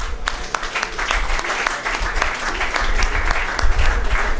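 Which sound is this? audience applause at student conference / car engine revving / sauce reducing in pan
audience applause at student conference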